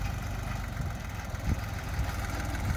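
A tractor engine runs steadily at a low, rumbling idle-like pace while digging a vegetable garden at an off-grid homestead in Alaska, with faint knocks over the continuous drone.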